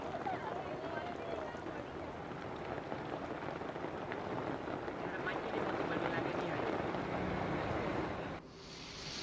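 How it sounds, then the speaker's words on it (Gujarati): Heavy downpour over Surat city, a steady dense hiss of rain hitting surfaces that holds evenly for several seconds before cutting off abruptly near the end. "આજે ફરી ધોધમાર વરસાદ તૂટી પડ્યો છે"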